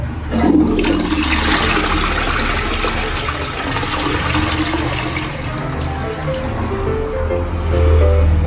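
A toilet with a slow, weak flush drains into a septic-tank outlet, giving a loud, close rushing flush that swirls steadily and keeps running for several seconds with no talk.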